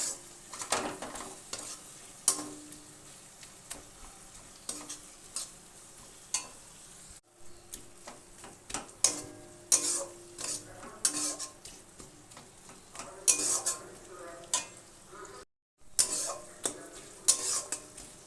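Turmeric stirred into softened spices in a pan for a fish curry, with repeated scraping spoon strokes and clinks against the metal pan over a low sizzle, continuing steadily with brief pauses.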